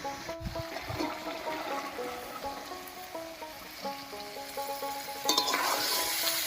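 Boiled potatoes and chickpeas being stirred into tomato masala for a chickpea curry, a quiet sizzle with soft wet scraping strokes and a louder burst of frying near the end, close, no voices.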